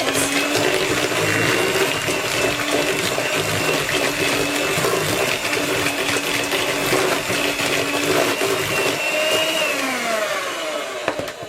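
An electric hand mixer beats Dundee cake batter in a home kitchen, a steady loud whirring drone that runs continuously with a slight pitch drop near the end, no talking over it.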